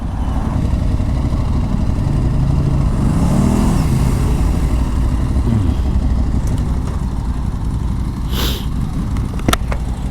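Continuous engine hum and wind roar from an Aprilia Tuareg 660 adventure motorcycle on the move, steady and close, with a few brief clicks and rattles near the end.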